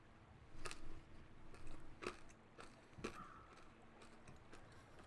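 Crunchy bites of Australian fairy bread topped with hundreds and thousands, chewed close up in a few distinct crunches spaced a second or so apart over quiet room tone.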